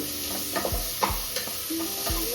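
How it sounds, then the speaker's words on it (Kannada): Onions with mint and coriander leaves fry in a pan for chicken biryani, a soft steady sizzle broken by a few scraping stirs and clinks, fairly quiet and without speech. "ಗೋಲ್ಡನ್ ಬ್ರೌನ್ ಬರೋ ತನಕ ಫ್ರೈ ಮಾಡಬೇಕು"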